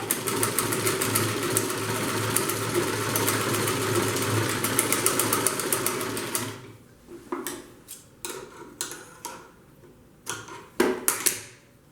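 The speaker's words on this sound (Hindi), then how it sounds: "तो एक बार और इसे सिलेंगे।" A sewing machine double-stitches a handbag, running loud and continuously for about six seconds, then stitching in several short, sharp bursts separated by pauses.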